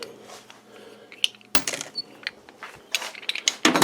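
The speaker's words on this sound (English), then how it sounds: "I'm just going to continue to wind this until it unscrews the whole head" Thickness planer head assembly being wound up off its posts: irregular close clicks, ratcheting and metallic clinks during maintenance, with a few louder knocks near the end and no speech.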